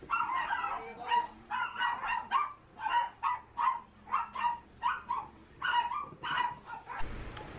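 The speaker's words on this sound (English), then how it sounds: "My dogs are barking." Dogs barking indoors, a run of about a dozen loud close barks in a steady rhythm with brief whimpers between, ending in a rustling thump.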